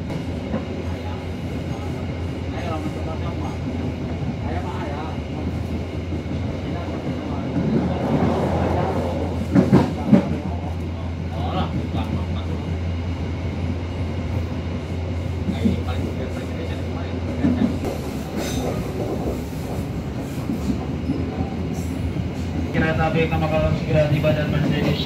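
Merak local passenger train in Java running on rails, a steady interior rumble with occasional clacks and rattles of the carriage, heard under onboard announcements and talk.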